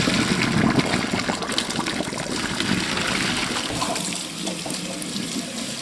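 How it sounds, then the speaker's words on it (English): Cooked boba pearls get a rinse under a cold running kitchen tap, a steady broadband rush of water splashing into a strainer that continues throughout and eases slightly toward the end. "Now I'm just gonna strain them and rinse them off with cold water."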